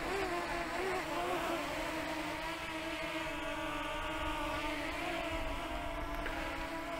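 A DJI Mini 2 drone flying in wind produces a constant whirring buzz with layered tonal whine from its propellers, steady and fairly close, with no talking.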